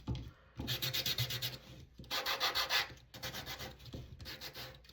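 Sandpaper rubs over a painted wooden snowman craft in quick back-and-forth strokes, a close, raspy scratching in several rhythmic bursts with short pauses between.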